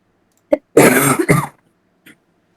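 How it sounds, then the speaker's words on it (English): A single sharp cough bursts out close by, preceded by a tiny throaty catch and trailed by a faint click, then quiet. "That was a cough."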